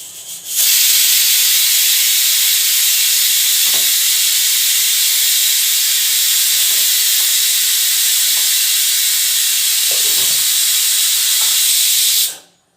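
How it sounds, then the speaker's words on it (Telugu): A pressure cooker cooking mutton curry lets off a loud, sustained whistle: a steady high hiss of steam running unbroken for about twelve seconds before cutting off abruptly. "మటన్ కూడా రెండు విజిల్స్ వచ్చాయండి ఈ విజిల్ వస్తే ఇది కూడా ఆపేసేద్దాం"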